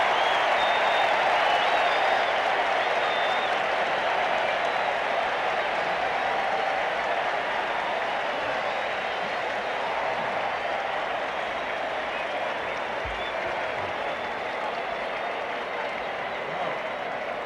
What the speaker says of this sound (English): this big crowd has come alive. They've been waiting to explode all afternoon.